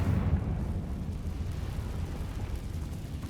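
Confringo fire spell blast in Hogwarts Legacy, a deep rumbling explosion that booms loudest at the start and then rolls on as a low sustained roar.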